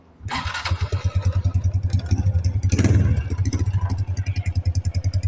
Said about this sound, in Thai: มาฟังเสียงท่อว่าแน่นอนหรือเปล่านะครับ